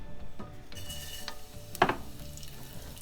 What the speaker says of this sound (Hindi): वन टीस्पून कलवंजी डालेंगे।